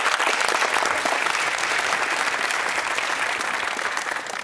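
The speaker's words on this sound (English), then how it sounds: "Let's have a round of applause." Studio audience applause on a television quiz show at the close of a university team match, a dense, steady wash of many hands clapping throughout, loud and even with no voices.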